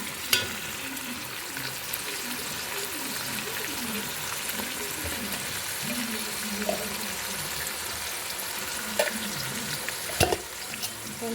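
Ginger paste frying in oil for spiced South Indian rice makes a steady close sizzle, with stirring scrapes throughout and sharper utensil knocks toward the end.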